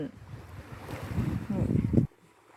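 Sea waves wash and rumble with gusty wind noise, building in intensity before cutting off abruptly near the end.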